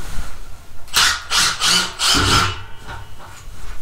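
A Milwaukee M18 Fuel 1/4-inch impact driver running on speed 3 backs a framing screw out of wood, giving four or five loud, rough hammering bursts close by before stopping.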